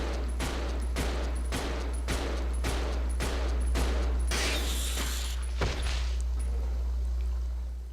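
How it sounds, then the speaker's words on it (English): Repeated gunfire from Rebecca's weapon in Resident Evil 0 HD Remaster, about ten evenly spaced shots killing a plague crawler, loud over a constant low game hum, ending in a brief splashy burst. "There's another plague crawler here. We'll just have Rebecca go ahead and waste it."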